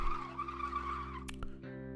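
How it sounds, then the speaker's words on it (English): A sustained high-pitched brake screech fades, followed by two sharp clicks, then a steady engine hum underneath. "she heard a shrieking brake of the police cars ahead"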